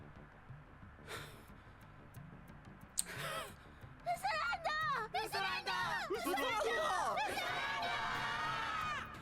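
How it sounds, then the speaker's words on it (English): A crowd cheers in a One Piece anime episode, the roar swelling after a few quiet seconds into loud, sustained shouting and shrill excited voices that carry to the end. "that's the crowd cheering your name"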